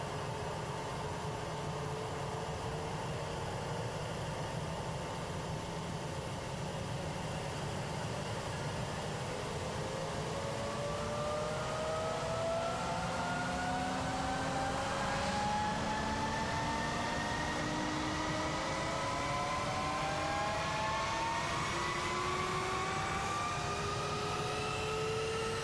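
The engines of a B-2 bomber in Microsoft Flight Simulator spool up, a rising turbine whine with several climbing tones layered over a steady broadband roar that builds gradually over a long stretch.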